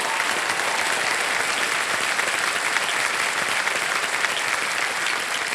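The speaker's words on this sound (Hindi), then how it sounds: "एक बार जोरदार तालियां हो जाएं इनके लिए।" A studio audience at a quiz show taping gives a loud, steady round of applause for a young contestant, dense, even clapping that holds throughout without a break.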